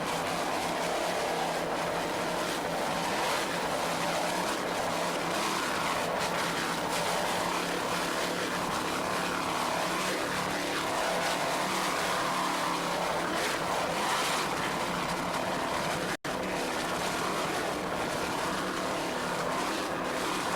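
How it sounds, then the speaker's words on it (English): Offshore racing powerboat with Stotler racing engines running at speed during a Fort Lauderdale race, a loud, steady, continuous roar of engines and rushing water that holds without a break, with no voices over it. "throttling those Stotler racing engines"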